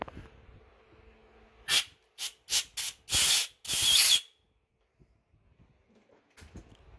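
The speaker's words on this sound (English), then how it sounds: "I'm using an air compressor, but brake clean works okay too." An air compressor blows old aluminum shavings out of a tapped hole during tap alignment work: six sharp, loud hissing blasts of air, the last two longer, set against a quiet workshop background.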